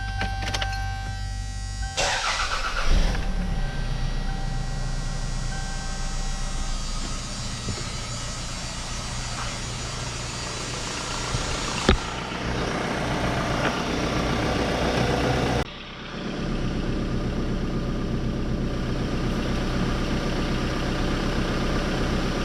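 A 1999 Toyota RAV4 engine turns over and settles into a steady, droning idle that continues for a long stretch, with a brief click partway through.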